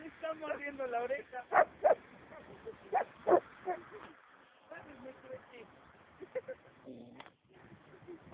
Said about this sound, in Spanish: Perro de ataque.